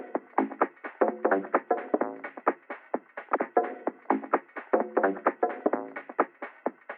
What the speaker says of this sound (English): if you solo only the mids of this song, what you hear is an incredibly punchy mixdown